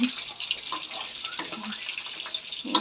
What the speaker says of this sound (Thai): สามชั้นทอดกรอบทุกแป้ง